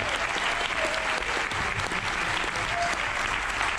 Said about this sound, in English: So please give a big round of applause for the amazing technicians, Sebastian, Ben on lights